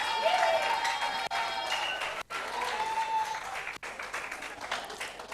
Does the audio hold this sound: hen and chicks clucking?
no